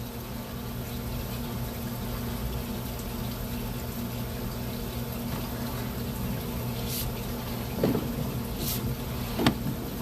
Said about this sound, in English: She has the tub running right now.